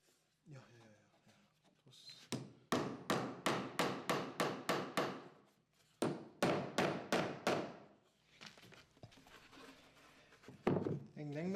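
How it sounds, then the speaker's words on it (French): Bolts are hammered into a wooden vertical panel saw frame in two quick runs of about eight and six sharp, evenly spaced strikes, loud and close. A voice speaks before and after. "Placez vos boulons et martelez si besoin avec un marteau pour bien les enfoncer"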